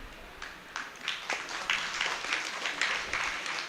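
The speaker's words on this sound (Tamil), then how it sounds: "இந்த கைதட்டு யாருக்கு? அந்த செட்டியாருக்கு." An audience applauds in scattered, uneven bursts of clapping, fairly faint and distant, spread across a few seconds.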